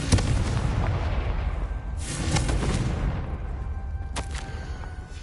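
Spell blasts and booming explosions in the Hogwarts Legacy video game sound over a dense rumbling background, with several sharp bursts rising through the mix.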